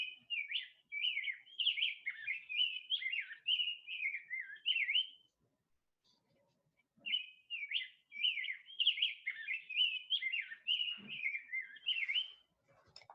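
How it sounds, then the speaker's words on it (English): A rose-breasted grosbeak sings rich, whistled, robin-like warbling phrases in two long bursts separated by a pause of a few seconds, clear and fairly close against a quiet background. "Both male and female rose-breasted grosbeaks sing. Their songs are considered similar to those of American robins. Rich, whistled, warbling sounds."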